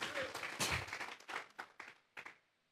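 A church congregation claps in unison as an offering of praise, a dense burst of applause that thins into a few scattered, separate claps before fading out.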